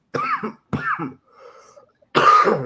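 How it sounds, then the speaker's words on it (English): A man coughs several times in quick, harsh bursts, close and loud, with short pauses between and a final rough cough that clears the throat. "Sorry about the cough, man."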